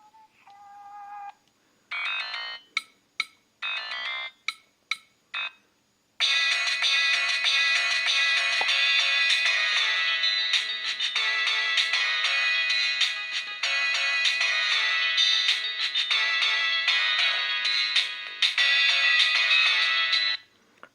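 Siemens C75 mobile phone playing ringtones, including user-recorded WAV and AMR sounds: short separate electronic melodies and bursts, then a long continuous bright, dense ringtone loop, loud and close.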